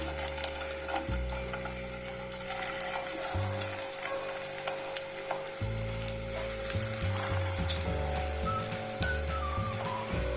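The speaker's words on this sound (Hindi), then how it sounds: "अपने कटलेट को शैलो फ्राई कर लेते हैं इस प्रकार से" Poha and potato cutlets shallow frying in a little oil in a kadai over a low-medium flame, a steady close sizzle with occasional crackles and soft pan knocks, no voices.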